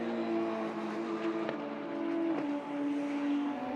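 Radical Cup race cars brake into the Fogarty Esses at Donington Park, engine notes dropping and shifting down under steady revving, moderately loud and somewhat distant, with no voices.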